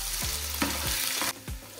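Ginger garlic paste sautéing in hot ghee for palak paneer, a loud close sizzle with a few quick stirring scrapes through the short stretch, no voices.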